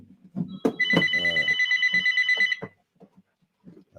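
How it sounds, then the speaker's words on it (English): A telephone bell rings loudly in one long burst of rapid trilling, ending abruptly, with brief speech fragments before and after it. "let me turn this phone off, it's ringing on me."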